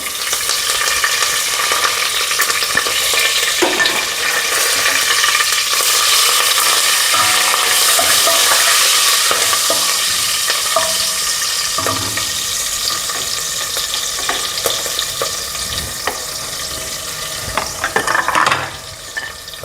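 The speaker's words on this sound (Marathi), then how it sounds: "त्यानंतर हिरवी मिरची आणि कढीपत्ता टाकते" Green chillies and curry leaves spit and sizzle in hot oil with asafoetida, a loud, dense crackle that holds steady for about twenty seconds, with occasional clinks and stirring and no talk.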